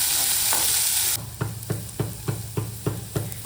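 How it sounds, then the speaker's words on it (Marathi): Chopped onion fries in a pan over a low flame, giving a steady soft sizzle, then a row of regular scraping stirs about every quarter second close at hand. "कांदा अगदी ब्राऊन कलर येईपर्यंत अगदी मंद आचेवर आपल्याला परतून घ्यायचा आहे."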